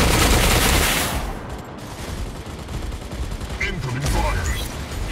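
Heavy automatic gunfire in the Mech Arena robot combat game, loud sustained bursts pounding from the start and easing slightly midway, with a brief synthetic voice alert overlapping near the end.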